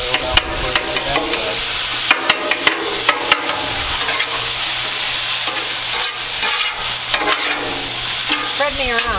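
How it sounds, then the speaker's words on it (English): Street tacos cooking in oil on a Blackstone griddle at a campsite, a loud continuous sizzle broken by sharp spatula scrapes and taps, close up, with no voices. "What do you have on so that we can grill up our street tacos a little bit?"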